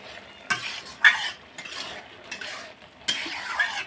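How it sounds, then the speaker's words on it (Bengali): Bitter gourd and potato chorchori simmering in a pan while a utensil stirs it: four or five distinct scraping bursts of spoon against metal over a quiet background, close by, with no speech. "এই যে ফুটছে উচ্ছে আলুর চচ্চড়িটা।"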